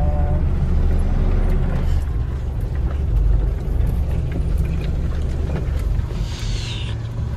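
A long truck's engine is reversing while the driver turns it in a tight spot. It gives a loud, steady, close rumbling drone with a constant low roar throughout and no talking.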